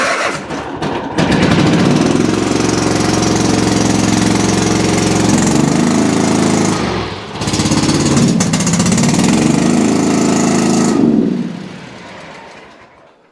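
A Toro Titan ZX6020 zero-turn mower with a Kawasaki engine that bogs and dies under load starts up and runs at a loud, steady idle. The engine dips briefly once midway, then shuts off and fades out.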